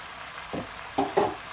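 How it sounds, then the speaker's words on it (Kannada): About half a kilogram of mixed vegetables frying in oil for fenugreek greens sagu, with a few short stirring scrapes and sizzles in quick succession at close range, no talk. "ಈ ತರಕಾರಿ ಎಲ್ಲ ಒಂದು 10 ನಿಮಿಷ ಎಣ್ಣೆನಲ್ಲೇ ಫ್ರೈ ಮಾಡಬೇಕು"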